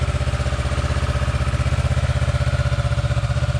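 A 2016 Kawasaki Ninja 650 with its stock exhaust idles close by in a steady, even low rumble with a rapid regular pulse, not especially loud.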